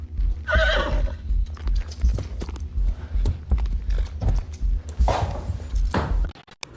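Up close, a horse lets out a loud whinny, then its hooves clip-clop in a steady rhythm. A second neigh comes near the end, with some creaking and mechanical clatter but no talking.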